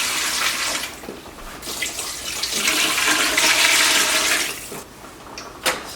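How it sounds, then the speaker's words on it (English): Water gushes and splashes into a pot holding turkey and vegetables, a loud steady rushing pour lasting several seconds before tapering off with a few drips and clinks. "I'm just going to add some water to this."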